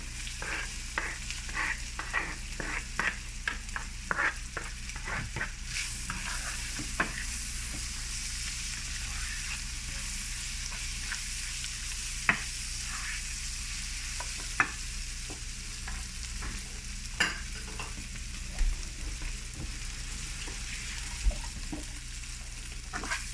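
Sausages frying in a pan with spices, chef's seasoning, pepper and salt, giving a steady close sizzle broken by frequent clicks and short bursts of stirring, with no talk.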